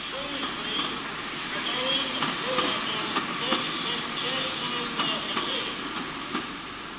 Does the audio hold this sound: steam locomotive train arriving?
yes